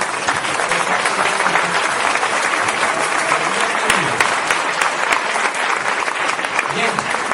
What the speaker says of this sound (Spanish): vamos a darle un aplauso para ustedes.